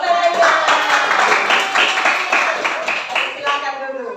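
A class of fourth-grade students clapping together in a classroom, a steady run of quick claps over a few seconds with some voices underneath.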